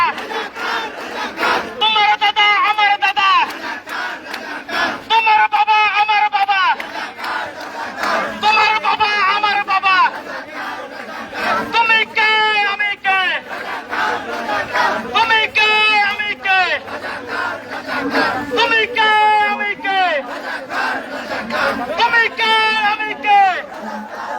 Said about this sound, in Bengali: রাজাকার রাজাকার স্লোগানে আবারও উত্তাল ঢাকা বিশ্ববিদ্যালয়